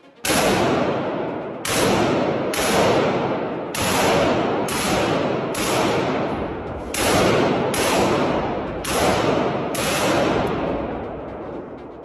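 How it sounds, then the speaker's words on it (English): Rapid gunfire from Ukrainian soldiers shooting up a gym in Donbass, loud and close, in about ten dense bursts with brief gaps between them. "Let's start with the video of Ukrainian soldiers shooting up a gym in Donbass"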